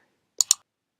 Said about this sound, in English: then we'll just click this